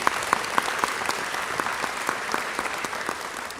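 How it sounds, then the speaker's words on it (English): A dense wash of audience applause at an awards ceremony honoring a community member, steady and moderately loud throughout with a few sharper claps standing out, no voices over it. "He certainly deserves a round of applause."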